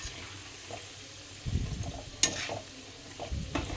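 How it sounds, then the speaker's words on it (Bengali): Palm fruit fritters fry in a generous pool of oil, a soft, low sizzle broken by a few scraping stirs and clattering bursts from the utensil. "তেলটা বেশি করে দিয়েছি যাতে তাড়াতাড়ি ভাজতে পারি অনেকগুলো একসাথে করে"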